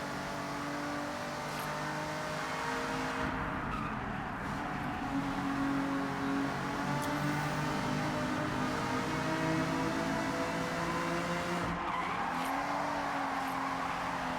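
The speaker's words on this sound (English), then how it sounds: "we'll get to hear the engine through the tunnel here" A 2003 Aston Martin DB7 GT engine roars steadily from inside the cabin, its pitch climbing as it accelerates, with a boomy, echoing tone as it drives through a tunnel.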